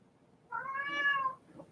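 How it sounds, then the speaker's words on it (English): A cat gives one clear, drawn-out meow with a rising then falling pitch, close and fairly quiet, heard alone. "Oh, hi, kitty. Meow."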